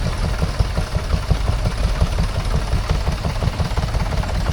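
A vintage Lister stationary engine with a cooling hopper, shown at a stationary engine rally, thumps along steadily in a fast, even beat of low knocks, close and loud, with no voices over it.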